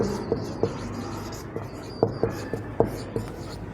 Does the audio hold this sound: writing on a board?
yes